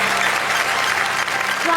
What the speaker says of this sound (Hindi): ये आपके लिए, पूरे देश के लिए घनघोर तालियां बजाने का वक्त है योगेश जी के लिए